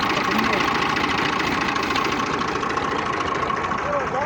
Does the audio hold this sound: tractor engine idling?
yes